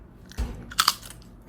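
Crunching on chips at a hotel staycation, a few quick brittle crunches and one thudding bite close to the mouth, with nothing else around them.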